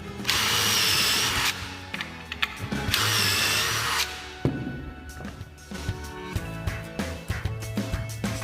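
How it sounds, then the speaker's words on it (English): A power drill bores holes in cabinet doors through a hardware jig. It runs in two loud, close whirring bursts with a short pause between them, followed by clicks and clatter as the tool and jig are handled. "Drill the holes."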